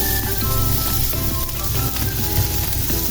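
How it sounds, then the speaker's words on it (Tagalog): Three cloves of garlic frying in a pan for Spam torta, a loud, continuous sizzle with crackling texture and faint stirring, no talking. "We start by adding 3 cloves of garlic."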